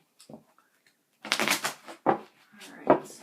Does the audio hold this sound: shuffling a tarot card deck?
yes